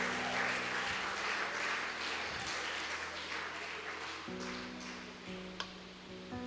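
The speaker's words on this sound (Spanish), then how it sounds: "Denle un fuerte aplauso al Señor." A church congregation applauding for the Lord, dense sustained clapping that fades slowly while a sustained tone plays beneath, with a single sharp tap near the end.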